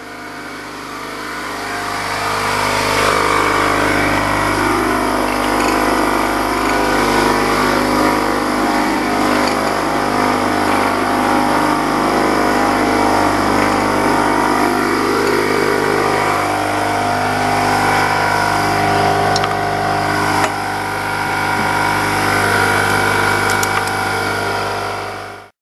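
A car engine idling steadily after a cold crank, a close, loud, constant mechanical drone that holds for about eighteen seconds before easing off near the end.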